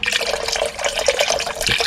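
Beef broth pours from a container into a stew pot, a continuous close splashing, gurgling flow without pauses.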